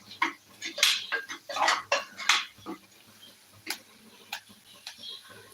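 Potato curry with masala being stirred in a pan, with a cluster of clinking spoon-on-metal scrapes and taps early on, then sparser single knocks, close and moderately loud, with no speech.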